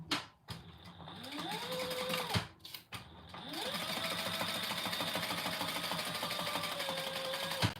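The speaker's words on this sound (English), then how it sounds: "Fold that around that seam, and we're going to top stitch that." A sewing machine top-stitches a folded binding piece on a compact clutch, starting and stopping in short bursts with a rising whir, then running in a long steady rattling stitch close by.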